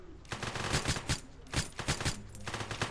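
Bursts of rapid automatic gunfire crack out during a jewelry-store heist in a video game, several sharp volleys close together with brief gaps between the strings of shots.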